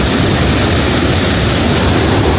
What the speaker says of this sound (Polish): Śluza opuszczona, czyli woda zasuwa.